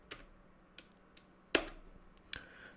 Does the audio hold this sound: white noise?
no